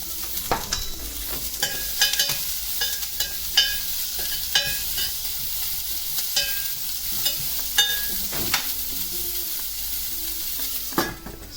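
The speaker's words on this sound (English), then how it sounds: "onion, pink onion, okay? Just little bit saute till it's translucent." Pink onion sautés in a pan for home-style Indian cooking, a steady close sizzle punctuated by repeated scraping stirs and metallic spoon taps throughout, with no talking.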